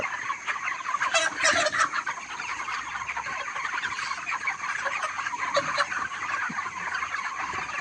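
A flock of poultry-farm chickens clucking steadily throughout, a busy layered chorus with a few louder squawks early on.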